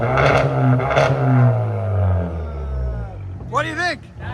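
A 2017 Kia Optima SXL 2.0 Turbo with a straight-piped exhaust revs in a few loud, raspy bursts that fade into an idle, followed by a brief high-pitched voice or whoop near the end.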